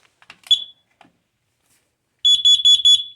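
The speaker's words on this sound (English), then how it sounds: "Here's another carbon monoxide detector." A carbon monoxide detector under test lets out a short shrill chirp, then after a pause a loud run of four rapid piercing alarm beeps, close and alone.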